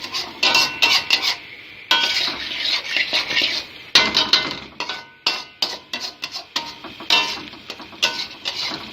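Dumba mutton fries in a karahi over medium heat with ghee or oil, amid rapid, rhythmic metal clanks and scrapes of a spoon stirring and tossing the meat, loud and close.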